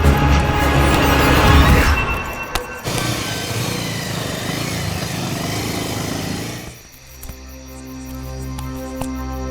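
A motorcycle engine runs loud and close, with a dull knock near the middle and a change in tone partway through as the bike moves off, then it settles to a lower, steadier hum.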